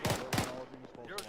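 A few sharp gunshots crack out in a military shooter game, heard as separate bursts over ongoing voice chat between players.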